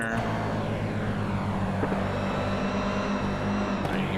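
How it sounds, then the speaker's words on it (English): A GR86 race car engine in the iRacing video game at Long Beach drones steadily with a rough, buzzing roar and shifting pitch, continuous and close, with no voices over it. "I hear an engine"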